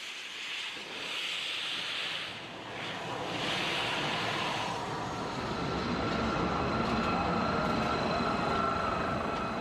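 A steam locomotive pulls a train, rumbling steadily with a broad rushing, hissing noise that grows heavier as it gets under way, with rhythmic clatter of wheels beneath.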